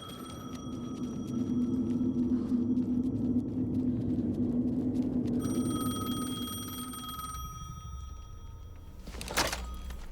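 Telephone ringing in the video game Alan Wake 2, a sustained electronic ring with eerie tonal hum, moderately loud and steady, then shifting to a thinner tone before a sharp thump near the end; no talking.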